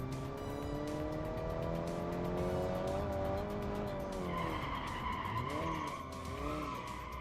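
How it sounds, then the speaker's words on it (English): Tires squeal in long wavering tones as a car skids under handbrake while oversteering in the BeamNG driving game. An engine drones beneath, and the pitch bends as the slide shifts. "if I assist it along with a little bit of handbrakey, it then handbrakes and does the oversteering"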